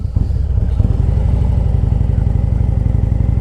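A Harley-Davidson Road Glide Special engine with a racing cam idles loudly and close by with a choppy, uneven lope, its low rumble pulsing in an irregular rhythm, no voices.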